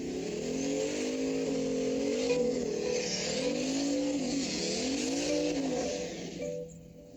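A car doing a burnout, engine revving hard while the tires squeal continuously with rising and falling pitch, loud and close, before the engine drops off near the end.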